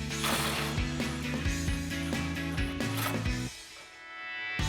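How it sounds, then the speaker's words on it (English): A ratchet with an 18mm swivel socket extension clicks rapidly and loudly while backing out bumper bolts during a grille guard install on a 2020-2026 Silverado 2500, then stops and leaves a low shuffle. "So we're going to grab our 18mm swivel socket extension and pull those off."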